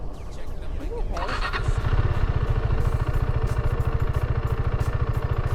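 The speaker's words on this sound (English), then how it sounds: "People not even gonna hear a bike behind them." A KTM RC 390 motorcycle idles close by with a fast, even mechanical pulse. Someone talks over the engine at the start.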